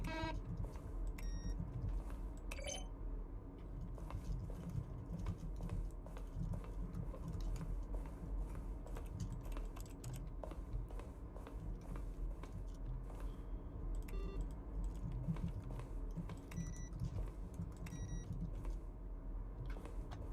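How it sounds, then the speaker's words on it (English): Button presses from The Stanley Parable, each one a keyboard keystroke blended with a synthesized tone, come as short scattered bleeps over a steady low background hum, with no talking. "Each sound is a mix of keyboard stroke and a synthesized tone"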